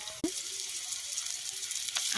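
Ginger and garlic frying in a pan over a wood-fired stove, a steady soft sizzle with a sharp hiss as something is added.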